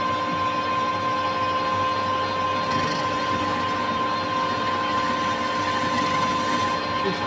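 Steady, continuous machining hum as metal stock is faced off on a lathe for motorcycle frame engine mounts, an even drone with no breaks.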